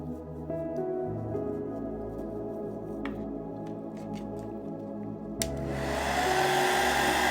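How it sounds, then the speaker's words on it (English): A blow dryer hums steadily at close range, with a few small clicks and taps, then its airflow roars louder and breathier near the end. "And I've got my blow dryer, which I'm going to use now."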